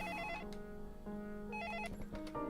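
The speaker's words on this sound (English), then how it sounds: "I got to answer that phone" A telephone bell rings in short repeated bursts, loud and close, with no voices over it.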